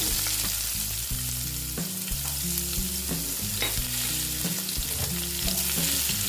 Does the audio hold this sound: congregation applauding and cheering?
no